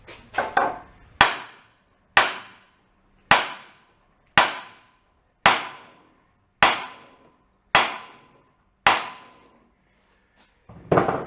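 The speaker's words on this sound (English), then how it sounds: "Should probably get a brass hammer. Couple more taps." Hammer strikes on a junked marine diesel generator set, nine sharp metallic taps spaced about a second apart, each ringing out briefly, loud and close with no talking.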